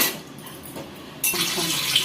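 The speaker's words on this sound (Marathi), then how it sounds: "हे थोडं थोडं पाणी घालून" Water is poured into white maize flour to make dough: a quiet stretch gives way partway through to a close, steady splashing pour that continues to the end, with no talking.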